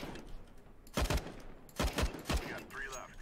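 Bursts of video game gunfire as enemies are shot during a virus outbreak story mission, three loud rapid volleys about a second apart, each a quick cluster of shots, with a faint voice talking quietly between them.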